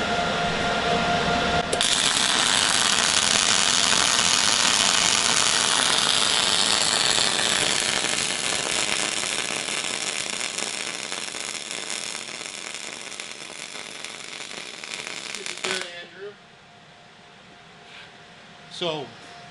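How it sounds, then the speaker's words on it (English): An ESAB Smart MIG welder runs a continuous weld, a loud, steady broadband crackle and hiss that holds for about fifteen seconds before cutting off, followed by a few faint clicks. "So go ahead and run a weld and it should tune right in."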